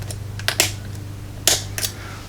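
Small metallic clicks and ticks come from picking a Guard Security commercial grade steel padlock: a few sharp, close taps in uneven clusters over a low steady hum.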